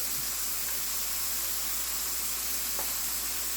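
A hashbrown omelette mixture sizzles steadily in a pan, an even, close hiss of frying that runs without pause and without talk.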